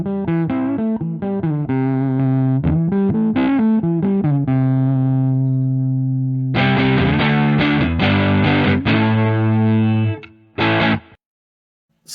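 Harley Benton MR Classic electric guitar played clean while the tone control is swept, sustained chords and picked notes ringing out steadily and close, growing brighter toward the end, no talking.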